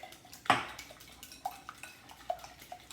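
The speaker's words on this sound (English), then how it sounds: "You don't want any bits of white strands in there, so just give it a good whisk." A whisk beats an egg mixture laced with a drop of Sriracha in a bowl: one louder knock, then a quick, light run of metallic clinks against the bowl's side, fairly faint and with no speech.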